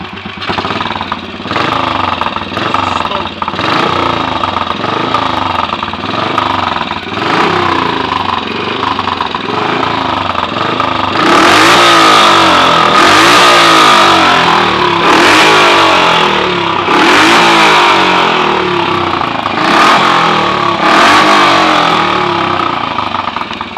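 Royal Enfield 350 Sprinter motorcycle with a raised compression ratio, its single-cylinder engine ticking over at a steady, fast idle, then blipped through several sharp revs in the second half, close and loud with no talking.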